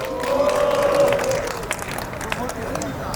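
A crowd at a construction workers' rally outside Suwon Station claps and cheers after a speech, a brief swell of applause and shouts with a sustained voice or tone early on, then scattered claps.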